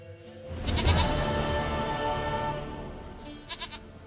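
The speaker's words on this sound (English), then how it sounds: "Goat of mine, dearest," A goat bleats in The Witcher 3: Wild Hunt, one long, wavering, fairly loud call up close, then a few short, quieter bleats near the end.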